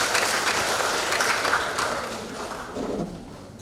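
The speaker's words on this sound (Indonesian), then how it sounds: "Tepuk tangan dulu untuk keluarga Tomia" Guests at an installation ceremony for the Tomia family association in Wangi-Wangi applaud: a loud, sustained rush of clapping from a large crowd that slowly tapers off toward the end.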